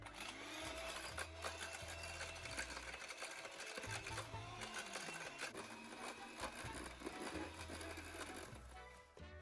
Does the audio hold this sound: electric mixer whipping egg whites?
yes